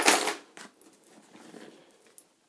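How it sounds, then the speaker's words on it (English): Keys jingling in a handbag, a loud metallic clatter at the start followed by a few softer rattles and a final brief clink. "the next thing I have is my keys"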